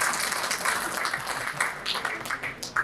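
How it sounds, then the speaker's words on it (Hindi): An audience at a law and justice workshop breaks into applause, a dense patter of many hands clapping near and moderately loud, with a voice speaking over it. "तो ताली बजा दीजिए भी जोरदार"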